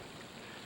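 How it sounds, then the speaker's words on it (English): A brief, soft wash of water trickling through natural fountain pools outdoors in northwest Yunnan, China, steady and faint with no voices. "Give you a little sound of water."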